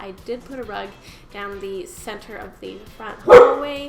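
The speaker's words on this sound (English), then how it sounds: "Sorry, that is my dog barking." A pet dog barks indoors, a short sharp bark standing out near the end while a person keeps talking over a quiet room.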